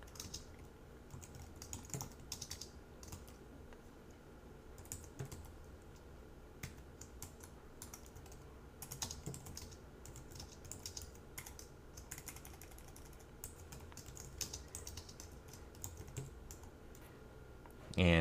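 Someone types on a computer keyboard while writing code. Rapid, uneven key clicks come in bursts, close but soft, over a quiet background.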